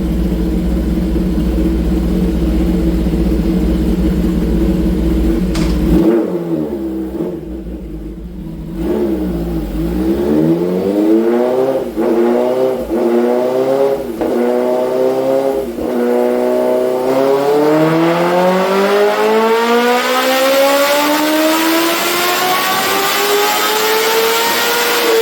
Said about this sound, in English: Let me run it one more time so you can hear what this thing sounds like